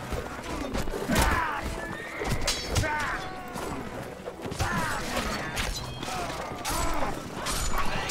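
A horse whinnies several times in the Mount and Blade game, The Last Days mod, amid a busy battle with hoofbeats, clashing and other mixed sounds throughout.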